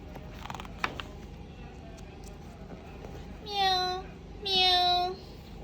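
A voice imitates a cat with two drawn-out meows, one after the other in the last two seconds, against a quiet background.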